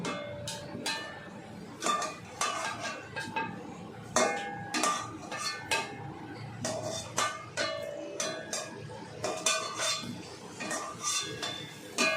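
Fried potatoes lifted out of a pan, with repeated close clinks and scrapes of a metal utensil against the cookware in a steady, busy rhythm, faint kitchen noise underneath.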